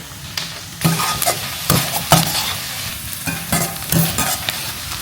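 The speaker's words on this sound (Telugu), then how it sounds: "చాలా జాగ్రత్తగా ఫ్రై చేయాలండి మాడకూడదు" Rice frying in a pan until golden brown, with steady oil sizzle, intermittent scraping stirs from a utensil, and several louder bursts of crackling, all close and without any talking.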